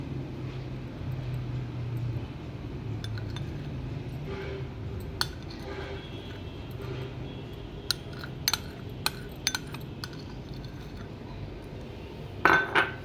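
Chicken and potato filling being mixed with mayonnaise in a bowl, a soft steady scraping with scattered clinks of a utensil against the dish and a couple of louder knocks at the end.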